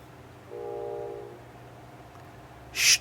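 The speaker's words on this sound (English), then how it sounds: "Shh, train." Train passing in The Outer Worlds, a faint low rumble with a sustained tonal horn-like blast, then a brief louder burst near the end over quiet ambience.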